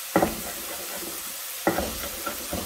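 Green bell pepper cubes hit a hot frying pan with a steady, close sizzle, broken by two sharp bursts of crackling as pieces drop in, then settling back into a soft continuous fry.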